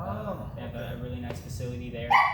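A young husky dog lets out a few short barks and yips near the end, close and fairly loud, while a person talks through most of it.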